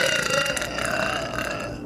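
A woman lets out a long, drawn-out burp during a food review. It is a loud, close, continuous belch lasting about two seconds, with no talking over it.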